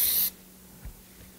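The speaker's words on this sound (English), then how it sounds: "Might spray this down a little bit." A short, loud spray burst of Break Free cleaner hits disassembled AK-47 parts, then cuts off into quiet near-silence with a faint soft knock.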